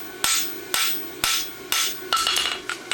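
Blacksmith hammering a roadster horseshoe on an anvil, flattening its thickness: loud, sharp metallic strikes landing in a steady rhythm about every half second, ringing briefly between blows, with no talking.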